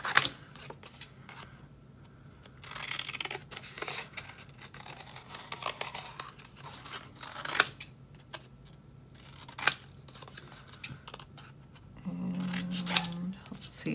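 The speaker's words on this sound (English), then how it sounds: "And then I'm going to cut it out." Scissors snip through paper while a mask is cut out for a third-grade Picasso-style abstract art project, giving a run of close, irregular crisp cuts and rustles with a few louder snips, then a low hum near the end.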